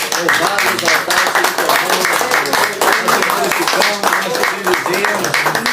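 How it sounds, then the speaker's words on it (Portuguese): A church congregation gives a round of applause, dense, loud and sustained clapping filling the room, with voices shouting and talking over it throughout. "Vamos saudar essa palavra com uma salva de palmas."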